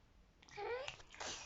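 A baby's fake sneeze, one quiet, close, breathy burst followed by a brief voiced trailing sound.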